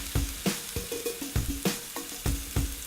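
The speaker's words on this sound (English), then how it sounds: "And then we're going to add one chopped medium yellow onion." Chopped medium yellow onion sautés in oil with a pinch of salt, a steady close sizzle broken by repeated scraping stirs every half second or so.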